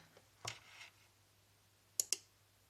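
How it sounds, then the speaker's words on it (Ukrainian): A relay clicks sharply twice in quick succession when energized with 2.4 volts on a welder repair bench, the snaps close and crisp over a quiet hum, following a brief earlier rustle. "релюха клацнула."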